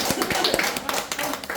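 Brief burst of clapping from a small audience at a lecture, quick irregular hand claps from several people, close and moderately loud.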